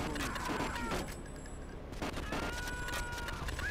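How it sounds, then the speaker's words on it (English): Uzi fire shooting at vehicles in GTA III comes as fast, sharp bursts of gunshots with a short lull in the middle, faint overall and mixed with game background noise. "All you have to do is shoot the freaking vehicles with the Uzi"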